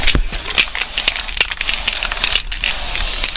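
Bursts of hissing spray from an aerosol can of marking paint sprayed along a line, with rattling clicks between, close by and fairly loud, repeating several times over a few seconds.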